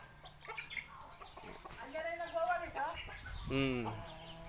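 Backyard chickens cluck and squawk close by, with several distinct calls rising out of a low, steady farmyard background. A person speaks quietly beneath the birds.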